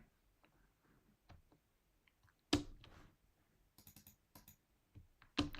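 Computer keyboard typing in a quiet room: scattered soft key clicks with a few louder sharp clacks, irregular and close, with no talking.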